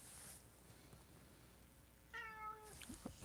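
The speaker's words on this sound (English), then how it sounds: "That is one kitty cat that's meowing." A cat meows once, a short wavering cry over a quiet room with low background hiss, plus a couple of faint soft knocks afterward.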